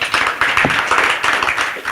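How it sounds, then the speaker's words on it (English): A seated audience breaks into steady, dense applause at a 2013 IMPAKT talk event, loud and close throughout, with a faint voice underneath. "please a warm applause for our next guest, Eelke de Jong"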